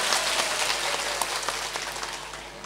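A gathering at a Sunday morning religious talk claps along, producing a soft, dense patter of hand claps that fades slightly toward the end, with a low hum underneath.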